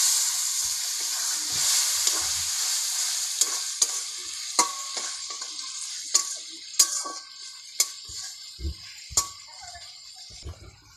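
Snail curry with potatoes sizzling and frying in a pan as a little water is added, soft hissing under repeated sharp clicks and taps of a spoon stirring against the pan.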